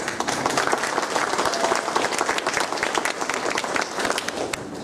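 An awards-night audience at a high school claps for a list of band students, continuous crackling applause of many hands at moderate loudness, steady throughout.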